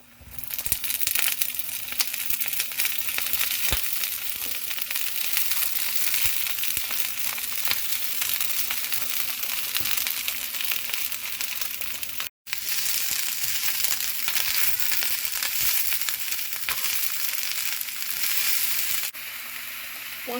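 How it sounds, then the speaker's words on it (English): Shredded cabbage sautés in a pan over golden-browned garlic, giving a loud, steady sizzle and crackle that carries through the whole stretch with only one brief break and no talking. "Now you want to add your cabbage in."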